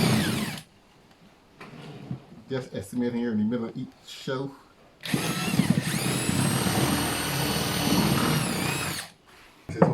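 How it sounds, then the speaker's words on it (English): Power drill boring holes in wooden shelves during a woodworking build, a loud sustained whir lasting several seconds after someone speaks briefly, with shorter bursts and knocks earlier. "What I'm going to do is just put a drill hole"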